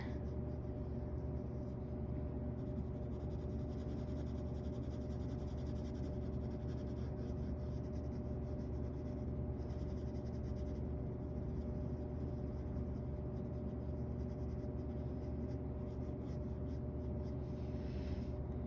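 Pencil drawing and shading on paper, outlining a circle, as a scratchy sketching texture runs steadily and quietly under a low room hum.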